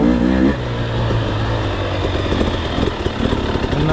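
A dirt bike engine idles and then rises with throttle, a close, rough, pulsing motor note that climbs and falls in short revs, with no talking.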